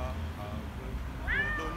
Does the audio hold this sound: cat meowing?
yes